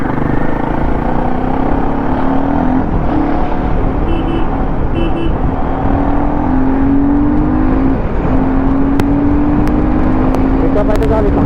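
Royal Enfield Himalayan 450 motorcycle on a test ride, its engine droning steadily and loudly throughout with rising revs and a steady rush of wind, while a rider talks over it.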